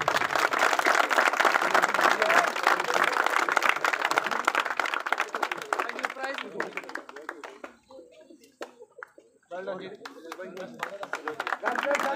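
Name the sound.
audience applause at a cricket final prize ceremony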